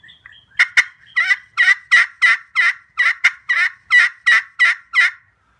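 A rapid series of about a dozen loud, raspy yelps in an even rhythm, made on a turkey call and mimicking hen turkeys, close and alone.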